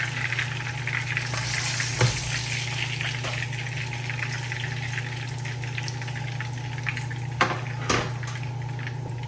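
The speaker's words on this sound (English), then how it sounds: "now that my fish is finished frying, I'm just going to go ahead and take them out" Continuous crackling sizzle of fish frying in hot oil for Jamaican escovitch fish over a steady low hum, with a few clinks of a utensil against the pan.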